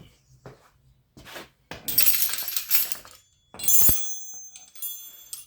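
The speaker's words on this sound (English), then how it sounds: "I'm going to try to hit it in the corner with a punch and see if we can get this thing to break loose" Sharp metallic strikes of a punch against an RB26 engine head in a garage, a few scattered hits followed by two longer bursts of ringing, clattering impacts, fairly close and loud.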